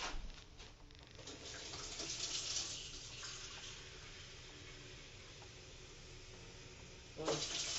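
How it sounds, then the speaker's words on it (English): Tap water runs steadily into a crock for making kimchi, a continuous close rushing that briefly swells midway, then settles before a louder burst near the end. "now I'm just going to fill it with 4 cups of water."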